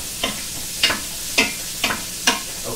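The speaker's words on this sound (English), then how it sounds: "We're going to go ahead and put our garlic in there. Give it a quick stir." Garlic stirred in grease in a pan over medium heat, scraping the bottom, with five distinct scraping strokes at an even rhythm over a soft, constant sizzle, close and without talking.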